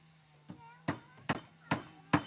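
Five sharp hammer blows drive nails into wood at a slow, even pace, each ringing briefly over a low steady hum.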